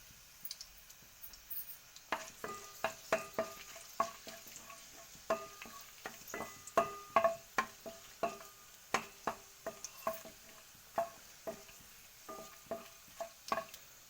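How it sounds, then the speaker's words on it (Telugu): Dried red chillies and seeds crackle and sizzle in hot oil as a tempering for Telangana-style salla charu, sharp close pops in a steady irregular run after a quiet start. "ఎండుమిరపకాయలు పోసి గింజలు వేసుకుందాము పోపులా."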